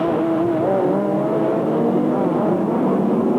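Touring cars at full throttle during a 1992 British Touring Car Championship race, a loud continuous roar of racing engines with shifting pitch as cars accelerate toward a hairpin.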